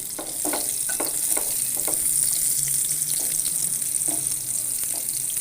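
Oil sizzles continuously in a pan with a bright hiss, while a utensil clicks and stirs intermittently; chopped garlic frying close by.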